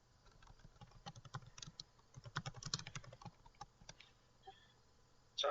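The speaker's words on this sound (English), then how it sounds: "Sounds like typing." Rapid typing on a computer keyboard, faint clustered key clicks in uneven bursts that grow busier midway, then a louder thump at the very end.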